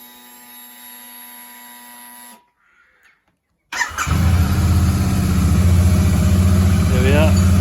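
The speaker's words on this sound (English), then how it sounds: "can't beat listening to this engine. Right, let's get it going." A Royal Enfield Super Meteor 650 motorcycle engine stops, and after a brief near-silence it fires up on new NGK spark plugs and settles into a loud, steady running rumble close by.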